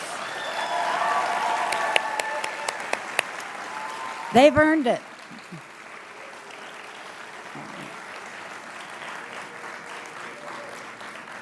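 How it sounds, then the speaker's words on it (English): At the UWC Costa Rica Class of 2024 graduation, families are honored with a burst of warm applause that lasts a few seconds and then stops, followed by a voice speaking over a hushed hall. "Let's give our families a great big applause."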